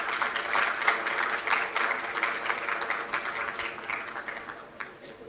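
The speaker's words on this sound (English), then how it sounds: "Please give a huge round of applause for them, everyone." Convocation audience applauding a group of graduating students, a moderately distant, steady wash of many hands clapping that fades toward the end.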